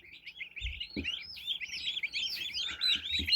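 Young turkey poults in a full incubator, mixed colours including bronze, white and blue, give a steady stream of high, rapid chirps and peeps, near and continuous, with a few soft low thumps of movement.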